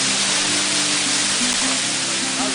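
Tall waterfall at Cachoeira do Sobe e Desce in Miracatu, a loud continuous broadband roar of falling water, close and unbroken for the whole stretch.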